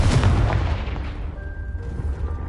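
A booming fire blast spell in Hogwarts Legacy hits with a heavy low-end burst, quickly settling into a rumbling tail with faint tonal game effects ringing on afterward.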